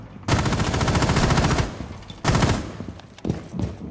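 Automatic weapon fire in the video game Rainbow Six Siege: two long, loud rapid bursts followed by shorter scattered shots, close and dominant, with no talking.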